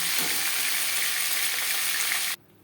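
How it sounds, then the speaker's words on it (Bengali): Fish pieces and a fish head fry in hot oil in a pan for a fish curry, giving a loud, steady, close sizzle that stops abruptly just before the end. "পরের মাছ ও মাথা একইভাবে ভেজে নেব।"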